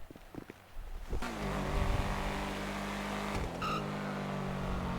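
Car engine in GTA roleplay, driven slowly through traffic, a steady low engine drone building in after a second and holding loud and continuous, with a brief high whine near the end.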